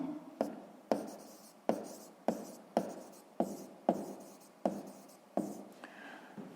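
Pen or chalk writes out an equation for a sixth-grade math exercise, giving a series of about a dozen sharp taps and scratchy strokes at an even pace, close by.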